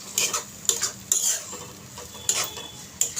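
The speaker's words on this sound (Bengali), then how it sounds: "হলুদ আর লবণটাকেও পেঁপের সাথে মিশিয়ে নেব নেড়ে।" A utensil stirs mashed boiled papaya with turmeric and salt in a pan, giving a series of short scraping strokes with light sizzling, close and moderately loud, with no talking.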